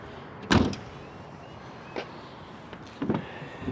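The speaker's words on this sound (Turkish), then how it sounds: "Daha sonra koltuklarımızı rahatlıkla katlayabiliyoruz." Rear seats of a 2009 Hyundai Getz 1.5 diesel being folded down inside the car, three separate thuds and clunks with pauses between them, close and fairly loud against a quiet cabin.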